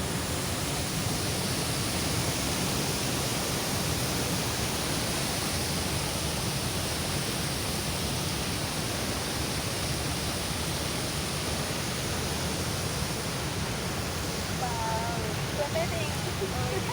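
Water rushes steadily at Hogenakkal falls, a dense, continuous roar with no breaks that fills the whole scene, loud and close, with faint voices barely rising above it near the end.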